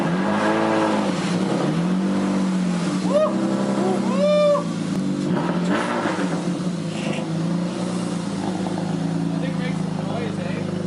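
BMW E36 with an M30 engine and no muffler, revving loudly and close with rising and falling raspy exhaust pulls, while people talk over it.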